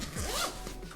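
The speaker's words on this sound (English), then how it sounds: "Just need to feed these zippers through with its zipper pull" Zippers on a Peak Design travel backpack being pulled, a single close, rasping zip about a second long with no talk.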